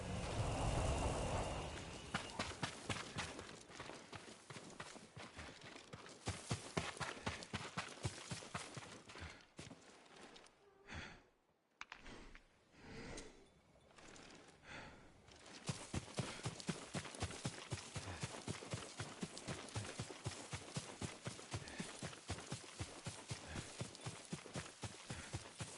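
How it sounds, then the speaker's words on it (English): Hooves clip-clop steadily from a horse in the video game Ghost of Tsushima, a loud regular walking rhythm that drops away briefly midway before resuming, with no talk over it. "Yuriko's horse. She can't be far."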